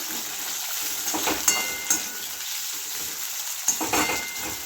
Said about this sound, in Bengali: গাজরগুলোকে হালকা করে ভেজে নেব